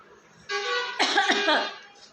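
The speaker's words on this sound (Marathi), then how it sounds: "लागला खोकला" A single harsh cough bursts out close up, following a brief hum-like vocal sound, then fades into quiet.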